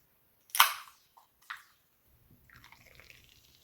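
Beer is poured into a small container in a quiet room. A sharp clink and a splash are followed by a soft, steady fizz of bubbles.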